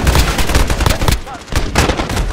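Rapid bursts of rifle gunfire from an AN94 in Call of Duty (2019) Domination on the Backlot map, loud and dense with a short lull midway before more shots.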